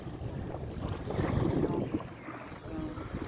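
Waves washing ashore at a seaside beach at midday, a steady broadband rush with gentle swells and wind buffeting the microphone, no talking.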